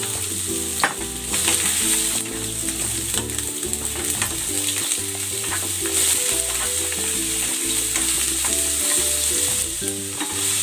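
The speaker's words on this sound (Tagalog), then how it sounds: "I-stir fry ko muna itong carrots at ang sayote." Carrots and chayote stir-fried in hot cooking oil make a loud, continuous sizzle, with repeated scraping and clanking of a utensil against the pan in an uneven rhythm throughout and no talking.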